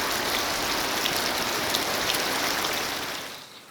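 Rain falls steadily over an outdoor planting of blackberries and raspberries, a dense even hiss with scattered drops, fading slightly at the end.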